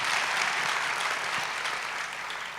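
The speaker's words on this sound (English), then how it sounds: "A round of applause for both of them again." Audience applause rolls on steadily for a couple of seconds as a thick continuous patter of clapping, gradually easing off at the end.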